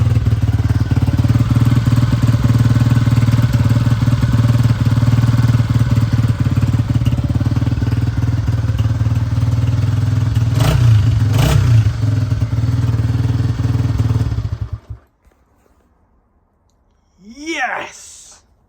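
A motorcycle engine that was just kick-started after its loose flywheel was repaired runs loud and steady for about fifteen seconds, with a couple of brief revs partway through. Then it cuts out, leaving a short burst of other sound near the end.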